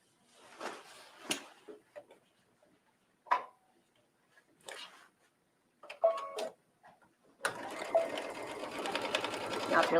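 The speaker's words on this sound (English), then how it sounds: "So we're ready to sew this side of the seam." A sewing machine runs a skirt seam in short bursts of rapid stitching separated by pauses, then settles into a longer continuous close run, with a voice talking in the gaps.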